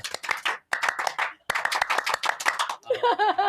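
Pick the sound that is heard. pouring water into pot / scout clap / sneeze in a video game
scout clap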